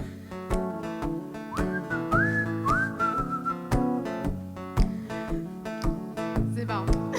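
A man whistles a tune at a live studio show, bright sliding pitched notes over steady backing music with sharp percussive hits.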